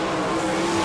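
Sprint race cars roar around a dirt oval at an All Star Circuit of Champions Speedweek race in Barberville, Florida, a loud, continuous engine blare with no voices.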